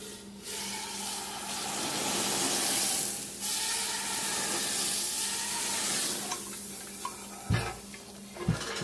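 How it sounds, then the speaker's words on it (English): Liquid nitrogen is poured slowly over an egg, producing a steady hissing, bubbling sizzle with gurgling liquid noise, ending in a couple of sharp clicks and knocks. "just start pouring some liquid nitrogen very carefully and gently."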